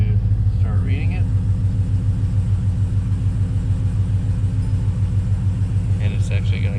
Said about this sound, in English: I'm going to crank it up now